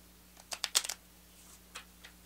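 A deck of oracle cards is shuffled by hand close to the microphone. A quick cluster of crisp riffling snaps comes early, then two fainter snaps follow over a quiet background hum.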